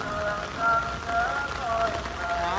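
Heavy rain pours down at a graveside in Vietnam, a dense, steady patter of drops hitting surfaces close by throughout, with faint tonal sounds mixed in.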